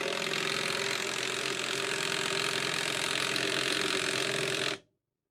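A Maxmore 20 volt mid torque impact wrench runs at its level 3 setting with a loud, continuous buzzing hammer for close to five seconds, then cuts off abruptly into silence, with no talking over it.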